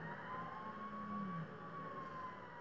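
A fire truck siren in the GTA video game wails faintly at a distance, one long sustained tone over a low background rumble, with no talk.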